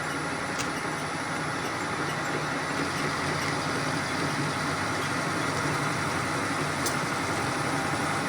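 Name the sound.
machine cutting a keyway slot in a bushing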